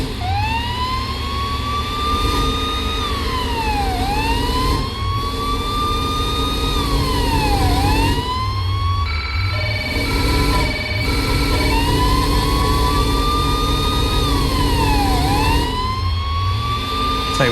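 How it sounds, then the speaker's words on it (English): A police vehicle in the Police Simulator: Patrol Officers video game roars loudly with a rough-running engine under a rising and falling wailing siren that briefly switches to a faster yelp midway, sustained and close throughout. "that engine doesn't sound too healthy"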